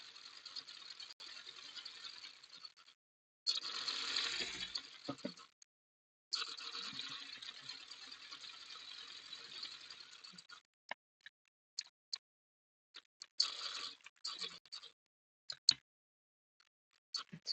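Sewing machine stitching fabric for a piecing job with back tacking, quiet rapid mechanical ticking in short runs separated by pauses, ending in brief stop-start bursts.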